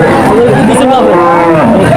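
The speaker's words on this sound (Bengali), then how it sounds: "এই গরু কার এই গরু" Cows moo repeatedly at a busy cattle market trading large bull calves, loud and close over a constant crowd chatter.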